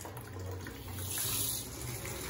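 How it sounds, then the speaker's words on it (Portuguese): A weak, low-pressure stream of water runs steadily from a kitchen faucet in a newly finished kitchen, a soft continuous hiss and trickle heard faintly and alone. "Ele ainda não entende que tá saindo água."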